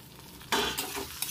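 Rugda mushrooms frying in a pan while being stirred, a sudden scraping sweep over a soft sizzle, followed by two lighter stirring strokes close by.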